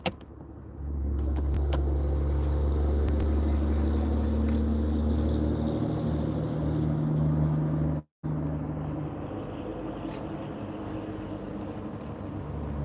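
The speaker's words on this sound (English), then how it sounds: "I am right next to a road. If you guys can't hear the dump trucks going by every 2 seconds, it seems like." Dump trucks pass on a road right beside a fishing spot, making a heavy, continuous engine rumble and drone that cuts out briefly partway through, then resumes close and loud.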